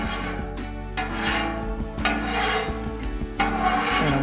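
A Camp Chef FTG600 flat top griddle turned to low being scraped clean with a metal spatula, loud rasping strokes in repeated bursts with short pauses between them.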